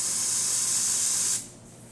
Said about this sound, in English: we have steam.